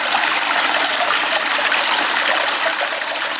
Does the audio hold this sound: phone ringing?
no